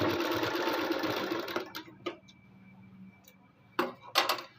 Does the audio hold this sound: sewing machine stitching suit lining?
yes